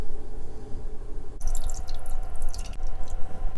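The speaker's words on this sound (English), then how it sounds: "add enough water to cover the tongues" Water splashes and trickles into a cooking pot of pig tongues, a steady pouring with dripping and bubbling, close and fairly loud throughout.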